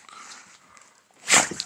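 A dog on an off-grid homestead gives a single short, sharp bark or yelp indoors after a few faint soft noises.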